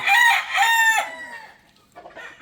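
Abonayon chickens of the Boston and sweater varieties crow loudly in two close, drawn-out calls, followed by a few softer clucks.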